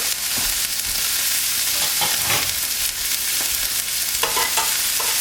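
Small pieces of Wagyu beef brisket deckle, seasoned with salt and pepper, fry in a hot pan with a constant loud sizzle, broken by scattered clinks and scrapes as the pieces are turned.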